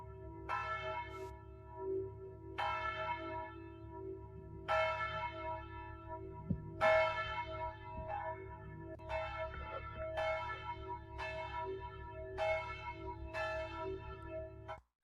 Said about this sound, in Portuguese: Esse muçulmano está incomodado com o som dos sinos da igreja.